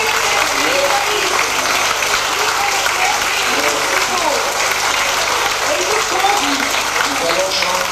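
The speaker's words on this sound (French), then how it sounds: "Applaudissons-le, Seigneur!" Steady, dense applause from a large church congregation in Martinique fills the whole stretch, with voices mixed in beneath the clapping.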